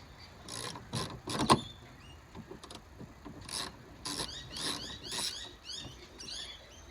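Gas strut bolts being loosened with a socket extension on the tailgate of an 80 Series Land Cruiser: close, irregular metallic scraping and ratchet-like rasps in short bursts with pauses.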